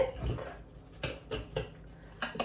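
A utensil mixes a grated zucchini pizza base with cheese in a bowl, making a few separate clinks and scrapes at an uneven rhythm, close and moderately loud.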